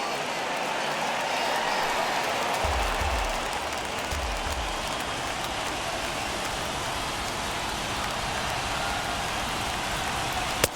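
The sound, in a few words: baseball stadium crowd cheering in a baseball video game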